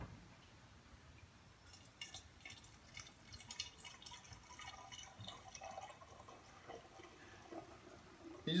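Home-brewed kombucha being loosely filtered and poured into bottles, faint trickling and dripping liquid with small clinks and handling noises, quiet and close.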